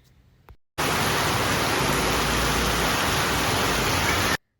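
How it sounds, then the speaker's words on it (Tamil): A sudden downpour of rain gives a loud, steady, dense hiss that starts abruptly and stays constant for a few seconds before cutting off. "திடீர்னு மழை வந்துருச்சு."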